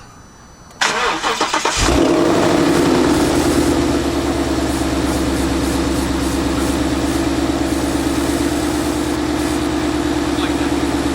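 A 2015 Ford Mustang GT V8 with an upgraded fuel pump cranks briefly, fires up with a loud rev, then settles into a steady, throbbing idle heard up close.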